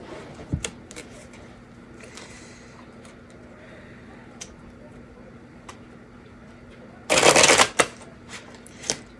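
Tarot cards riffle in one short, loud burst of shuffling near the end, amid quiet handling clicks and faint card taps, with a low background hum.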